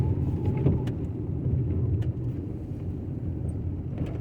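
A car drives along a road in Abbeville, Alabama, giving a steady, fairly loud low rumble of engine and tyre noise that holds even throughout, with no voices.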